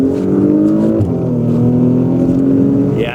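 A Porsche Macan with a 2.9L V6 and upgraded turbos accelerating hard in sport mode, a loud close engine roar climbing through the revs, a brief shift dip, then pulling strongly again.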